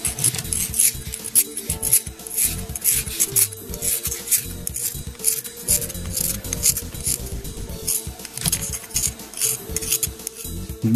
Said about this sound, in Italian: Dopo aver finito con la lima, il filo è già abbastanza tagliente